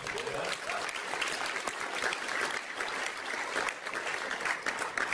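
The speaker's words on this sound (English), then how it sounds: "So give yourself a round of applause." Steady, continuous applause fills the room from an audience at a compensation-focused seed summit, with a few voices audible beneath the clapping.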